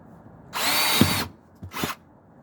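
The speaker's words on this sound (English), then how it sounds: "all I'm going to do is just drill a single hole here" Power drill whirring through plastic to bore a single hole for a rim protector: one strong burst of about three quarters of a second, then a shorter second burst, close by in a quiet room.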